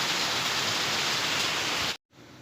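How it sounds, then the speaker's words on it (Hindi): Heavy morning rain pours down in Shimla as a loud, steady hiss of dense drops, cutting off abruptly near the end to leave a much quieter background. "मैं दिखा रही थी आपको कि बारिश कितनी हो रही है।"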